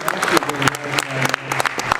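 Audience applause at an Acclaim 20th anniversary convention panel at SGC 2013, a dense, steady crackle of clapping that lasts throughout with voices talking over it.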